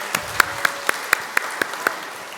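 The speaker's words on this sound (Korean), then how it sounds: "다시 한번 박수 해주시기 바랍니다" A church congregation at a Sunday worship service claps in steady unison, about four sharp claps per second, after the children's praise singing and dancing.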